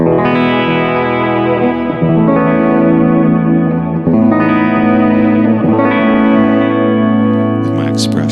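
An electric guitar runs through a Boss MS-3 multi-effects unit with reverb and delay, sustained distorted chords ringing out in a few long strums, each tail echoing and washing into the next, loud and close.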